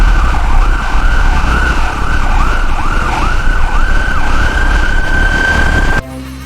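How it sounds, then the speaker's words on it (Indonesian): Toy ambulance siren wailing in rapid repeated rising-falling whoops over a loud, rough background hum, cutting off abruptly near the end. "Yang ini ada mobil ambulans."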